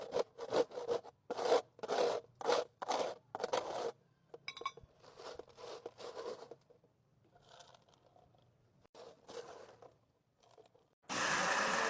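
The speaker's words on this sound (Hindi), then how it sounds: "जो नीचे ट्रे या परात के नीचे होगा उसे भी अच्छी तरह से इस तरीके से हमने खुरच लेना है" Dried mango powder is scraped off a tray with a series of close, rasping scrape strokes in quick bursts, then sparser softer scrapes, ending in a brief loud rush of noise.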